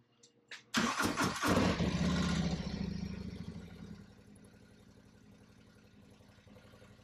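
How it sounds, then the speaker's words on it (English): A Harley-Davidson motorcycle engine cranks and catches after an oil change, bursting into a loud, close rumble that settles into a steady, lumpy idle fading slightly as it runs. "Now we're ready to crank her up for the first time."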